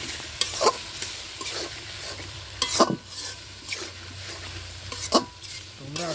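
Onions frying and sizzling in a pan, stirred with irregular scraping strokes over a steady crackle, with a few louder utensil knocks; no talking.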